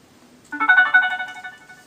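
A phone's ringtone starts abruptly and plays a bright, steady melodic ring for about a second and a half. It sounds close and loud in a quiet room, with no one speaking over it.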